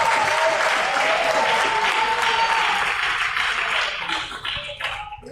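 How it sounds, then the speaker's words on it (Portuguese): A church congregation claps hands together in sustained, loud applause that fades and thins out toward the end. "Bem forte, bata palmas e dá glória."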